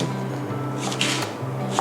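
A knife chops through firm taro on a board, a few separate thuds with pauses between them, over a low background hum.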